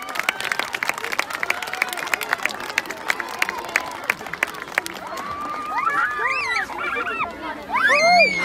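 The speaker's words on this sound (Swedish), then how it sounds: "Applåd nu." Crowd applause and cheering at an outdoor Walpurgis Eve celebration in Landskrona, scattered sharp claps rising into whoops and shouts, with a voice speaking over the start.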